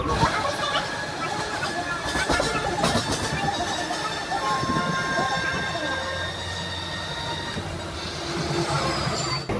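A local train running from Nandakumar station toward Digha rumbles steadily along the rails with metallic squealing and clatter, loud and continuous throughout, with faint voices mixed into the din.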